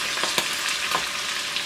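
Curry leaves dropped into hot oil for a tadka over chicken daal bukhara, giving a loud, continuous sizzle with a few sharper crackling pops on top. No voices are heard.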